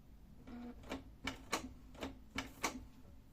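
A Canon PIXMA TR4640 inkjet printer works through a printhead cleaning cycle, giving faint, quiet mechanical clicks and short whirring ticks spaced irregularly over a soft hum.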